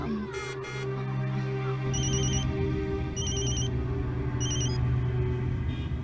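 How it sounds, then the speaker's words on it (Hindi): A telephone rings on a call in a Hindi action film scene, three evenly spaced electronic ring bursts sounding over a steady low rumble of background ambience, with no talk during the rings. "जरा फोन लगाइए ना,"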